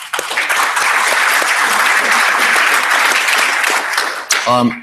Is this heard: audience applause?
yes